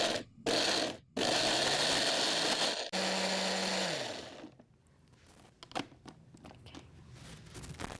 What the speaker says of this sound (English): Blend it until really fine.